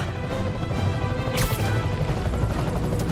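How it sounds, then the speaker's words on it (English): A helicopter swinging a wrecking ball in a video game trailer produces a dense, loud wall of rotor roar and crashing impacts, with a sharp smash bursting through midway and continuous heavy noise throughout. "I'm getting reports of a helicopter with a wrecking ball."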